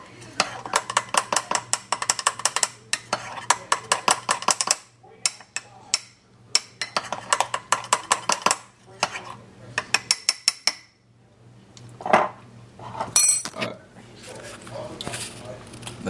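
A spoon stirs a thick, soupy mixture in a cup, scraping and clinking in quick rhythmic bursts with short pauses, close and fairly loud.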